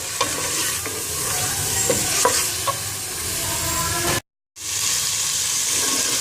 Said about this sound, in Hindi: अब मैं इसमें ऐड कर रही हूँ चिकन। और अब मैं इसको फ्राई कर लूँगी।